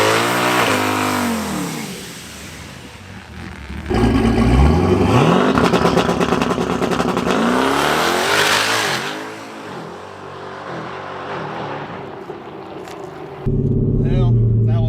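Twin-turbo sixth-generation Camaro on a drag strip, its engine revving and climbing through gears loudly, then easing off and idling, with talk over parts of it.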